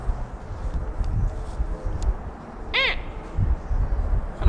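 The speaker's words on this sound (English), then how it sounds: "What kind of bird is that?" A bird, likely an owl, gives one brief clear hooting call outdoors at night, standing out over steady rumbling background noise.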